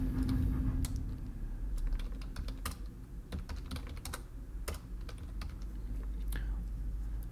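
Text is typed on a computer keyboard: irregular, crisp key clicks come in quick bursts and short pauses over a low background hum, close and fairly quiet, with no talking.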